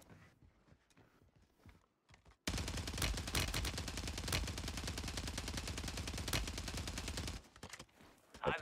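A Striker 9 submachine gun in Warzone 3 fires one long, loud, continuous burst of rapid shots that lasts about five seconds, after quieter game ambience, then stops abruptly.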